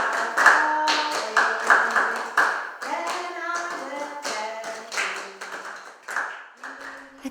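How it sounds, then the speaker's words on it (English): Choir members clap a simple, steady rhythm of sharp hand claps, while sung or hummed tones run underneath. "my choir buddies accompanied me by clapping a simple rhythm"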